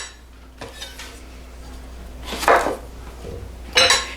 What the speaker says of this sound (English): Now we're going to cut our cucumber slices.